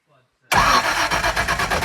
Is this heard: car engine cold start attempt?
yes